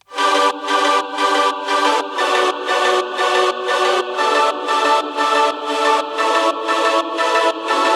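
Layered synth sound for a progressive house track made in FL Studio: a plucky pizzicato lead over wide super saw chords, pulsing in a steady repeating rhythm of about two notes per second, loud and full, with no talk.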